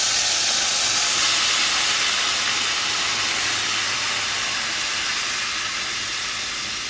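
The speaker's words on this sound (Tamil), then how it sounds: "ஊற வச்ச எலுமிச்சங்காயை இந்த எண்ணெயில் ஆட் பண்ணிடலாம்." Soaked lemons hit hot oil in a pan over a low flame for homemade lemon pickle, giving a loud, dense, continuous sizzling hiss that fades only slightly over the seconds, with no talking.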